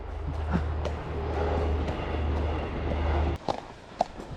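A low rumbling train rolls by at moderate distance for a few seconds, heard from horseback between fields, then the rumble cuts off, leaving scattered sharp clicks and knocks.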